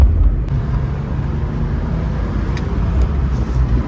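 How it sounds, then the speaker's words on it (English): Steady low engine rumble and road noise from a stock BMW M3 with a manual gearbox cruising on a sunny day, close and continuous with no pauses and no talk. "As you can see, car drives beautifully."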